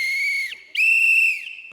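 A whistle blown twice at a public meeting in a stage play, two long shrill bursts with a short gap between them, loud and close with no talk.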